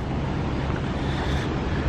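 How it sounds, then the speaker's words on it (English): Waves crash against the rugged coastline at Pebble Beach in Monterey, a dense continuous roar of surf mixed with wind buffeting the microphone, with no voices. "See the rugged terrain and the waves crashing."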